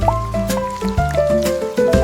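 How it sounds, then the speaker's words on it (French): Raindrops dripping onto a hat, a quick series of wet plinks and plonks in a tumbling, drum-like rhythm, close and fairly loud, over a musical backing. "Chaque goutte fait plink, puis plonk, puis patte, un battement de tambour dans mon chapeau."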